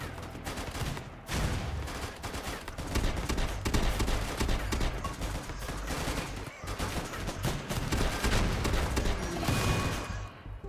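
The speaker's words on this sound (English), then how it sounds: "It's still gonna be loud because they're shooting guns" Gunfire in the modded colony game Rimworld, a dense, continuous barrage of loud overlapping shots and bursts lasting throughout with little pause.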